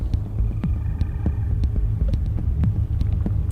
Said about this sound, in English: Plasma storm, that's bad.